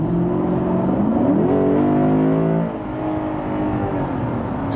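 A Lexus GS F V8 accelerates hard in sport mode, its engine note climbing through the revs, then dropping back after a shift into a lower, steadier drone.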